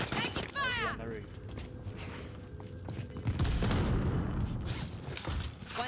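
Gunfire in the Warzone video game comes in scattered pops and booms, with mechanical clatter and creaks underneath. Voices are heard over the fairly quiet, busy mix.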